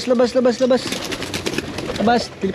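Pigeons at a home loft in Bulacan, the eggs brought from the UAE, give close, repeated throaty coos in short bursts, with a pause in the middle and a few more coos toward the end.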